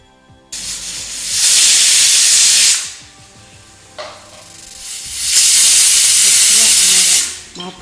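A pressure cooker whistle blowing loudly in two long, bright hissing bursts of released steam, close by, separated by a short lull with kitchen clatter.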